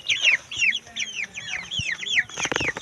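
Chickens about 45 days old cluck busily in a coop, a close chorus of quick, repeated calls that overlap one another.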